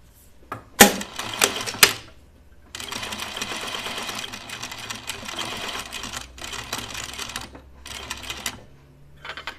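A home sewing machine stitching small cupcake and pie slice pincushions, its needle running in steady rapid bursts with short pauses between seams, close and fairly loud after a few sharp clicks at the start.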